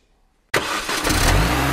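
A car engine in a dealership advert bursts into life after a moment of silence, then holds a loud, steady revving roar that swells slightly, close and alone with no voices.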